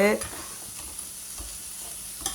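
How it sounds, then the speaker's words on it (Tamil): Crab frying in a pan sizzles briefly, with a stirring scrape at the start and near the end. The frying is close and fairly loud, with no speech. "நான் பாருங்க நண்டு வறுத்துட்ருக்குறேன்"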